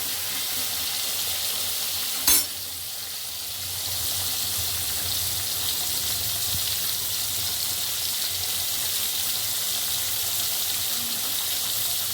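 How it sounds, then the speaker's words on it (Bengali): Potatoes frying in hot oil in a pan give a steady, even sizzle throughout, with one brief sharp clink near the start and no voices. "আলুটাকে ভালো করে কষবো"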